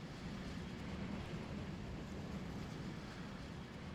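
Train rumbling steadily along the line in Transport Fever 2, a continuous broadband rolling drone with a low hum, constant in level and heard alone with no talk.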